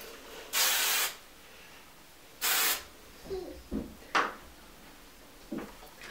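Hairspray from an aerosol can misted onto hair, two distinct hissing bursts about half a second each, close and fairly loud, followed by a few soft handling knocks and rustles in a quiet room.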